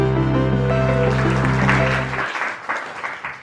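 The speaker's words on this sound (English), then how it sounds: "Please give a round of applause for the team behind the Deafening Silence." Applause breaks out from an audience at a film festival Q&A in The Hague, rising as music with a steady low tone fades out, then continuing as moderate, slightly uneven clapping to the end.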